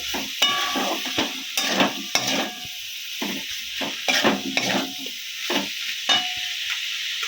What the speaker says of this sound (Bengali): এরপরে আমি এই ভাপানো কপিটা দিয়ে দেব অল্প আগে দিয়ে মশলা এই দুটো মিশিয়ে নিই মশলার সাথে